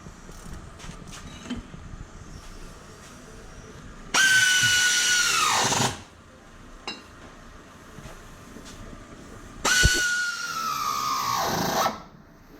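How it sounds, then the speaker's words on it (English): An air ratchet whirs against a car's plastic trim plate in two loud bursts of about two seconds each, its high-pitched spin winding down at the end of each burst, with tool clinks and quiet shop noise between them. "he is particularly enjoying this morning with his air ratchet"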